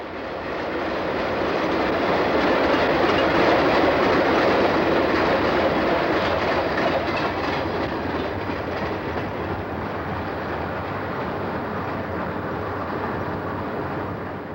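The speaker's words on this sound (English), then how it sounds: "This Erie-Lackawanna-powered Conrail train came out of Croxton Yard." A Conrail freight train hauled by Erie-Lackawanna locomotives rolls past near Croxton Yard, a loud sustained rumble with steady wheel clatter that swells early and then holds as the cars keep passing.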